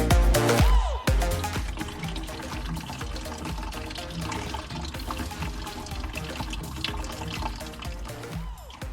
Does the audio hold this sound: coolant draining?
yes